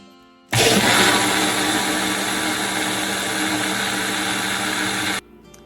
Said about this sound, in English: this is ready to now go in the blender and get blended so it can get nice and creamy